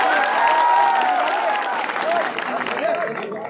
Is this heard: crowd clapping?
yes